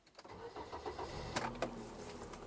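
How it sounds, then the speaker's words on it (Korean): A car engine cranks and catches at the start of a driving test, settling into a steady idle with a couple of sharp clicks, heard from inside the cabin. "먼저 시동을 켜시고"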